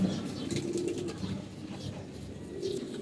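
Pigeons coo softly and continuously, a low rolling murmur with a faint flutter now and then.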